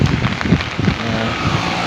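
Heavy rain pours down during flooding in Sri Lanka after two days of nonstop downpour, a dense, steady hiss of falling water with some low rumbling underneath, close and fairly loud.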